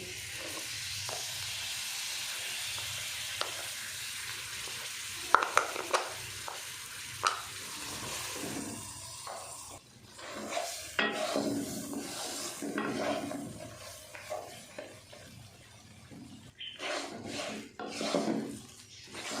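Malai is stirred into hot ghee in a pan while aata halwa is being made. A quiet, continuous sizzle runs under uneven scraping and rubbing strokes of a spoon, with occasional louder clatters.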